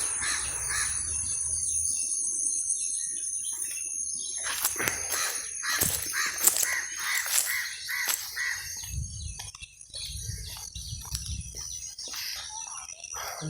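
Birds call on a morning in a Goa paddy field, with crow-like caws and scattered chirps over a steady insect-like hiss, some calls close and others distant, with no talking.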